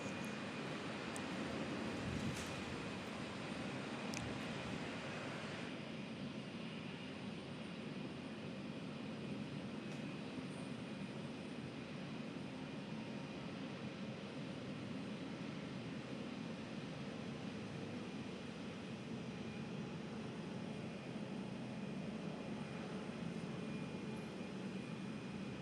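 An Embraer E190 jet airliner taxis at Perth airport, its engines giving a steady, distant roar that continues unbroken throughout.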